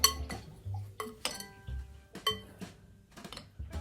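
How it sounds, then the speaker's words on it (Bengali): A spoon clinks against a bowl while marinated mushrooms are mixed with salt, giving several distinct metallic taps and scrapes at an uneven rhythm, close and clear. "এটাকে ভালো করে মিক্স করে দেবো, মিক্স করে একটু ম্যারিনেট করে রেখে দেবো।"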